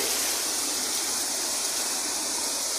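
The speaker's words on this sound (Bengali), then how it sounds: "মুষলধারে বৃষ্টি চলছে" Heavy monsoon-style downpour in the Savar area, a dense, steady hiss of pouring rain that stays loud and unbroken throughout, with no voices.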